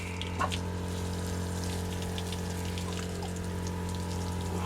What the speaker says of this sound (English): you turn it up to have more water out, like that, and then that becomes cooler